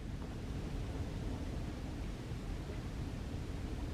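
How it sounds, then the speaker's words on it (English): Steady wind buffeting a house during a rainy day, a constant broad rushing roar with no breaks and no voices. "Listen to this wind hit the damn house like fucking crazy."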